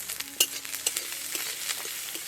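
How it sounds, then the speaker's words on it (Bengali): Chopped ginger, onion and green chilli fry in a little mustard oil, with a close, steady sizzle broken by light scrapes and taps of a stirring utensil. "হালকা করে ভেজে নেব"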